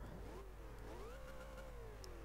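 A car engine revs in the Forza Horizon 2 racing game, its pitch climbing and sweeping upward as the throttle opens, a steady mid-range growl heard alone without talk.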